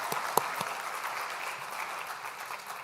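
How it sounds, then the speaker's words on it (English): Audience applause at a school State of our Schools Address for Roxborough Middle School teachers, steady dense clapping from a hall crowd throughout, moderately loud with one sharper clap near the start. "another round of applause for them"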